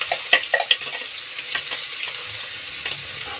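Cumin seeds and a chopped onion-garlic paste frying in hot oil for aloo methi, with soft crackling sizzle and a few sharp scraping stirs early on, close and steady with no talking.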